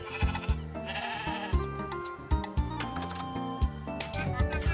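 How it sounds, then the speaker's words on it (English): Repeated bleating of sheep, several overlapping wavering calls in quick succession, fairly faint and close, in the video game Discounty. "Random sheep."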